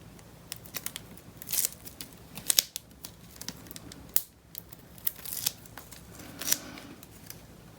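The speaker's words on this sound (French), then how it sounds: "je vais venir enlever mes protections de mon ruban double face" Protective backing being peeled off double-sided tape during a papercraft bookmark project, close crinkly tearing and snapping rips in short irregular bursts, with quiet handling noise between them.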